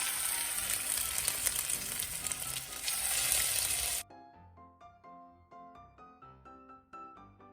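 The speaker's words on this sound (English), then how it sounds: "I'm going to fry these up, and they don't take much longer." Tuna patties fry in a pan with a loud, dense sizzle for about four seconds. The sizzle then cuts off and soft music continues alone.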